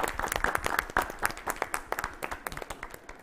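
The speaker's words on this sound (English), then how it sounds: "A round of applause for all of you and all the startups who are present here." An audience at a startup health-innovation event breaks into applause, a dense burst of many hands clapping that stays loud for a few seconds before thinning into scattered individual claps.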